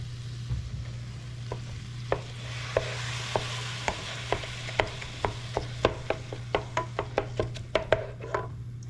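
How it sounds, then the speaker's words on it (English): Ground meat for egg roll in a bowl browns in a pan under a steady sizzling hiss, while a utensil knocks and scrapes against the pan in a regular run of sharp taps, close and clear, with no talk. "Let me brown that up real quick."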